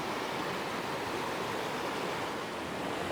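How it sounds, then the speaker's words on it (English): Steady, loud roar of rushing water pouring over a drop-off into a waterfall in San Juan Creek on the Chiquito Falls trail, a continuous broadband wash heard close up with no voices. "Give you a good view of the rushing water in San Juan Creek."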